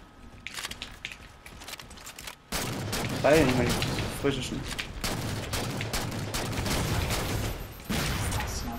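Bursts of shotgun fire blast in quick succession in a splitscreen video game amid game sounds and noisy action, while someone talks over the shooting.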